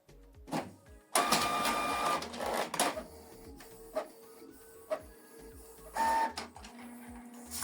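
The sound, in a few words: Canon TR4755I printer printing a document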